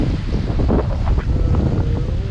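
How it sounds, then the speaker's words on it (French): Strong 25-knot wind roars steadily across the microphone on a sailboat crossing the Atlantic, with water rushing and sloshing beneath it and faint creaks from the boat. "on a 25 nœuds de vent."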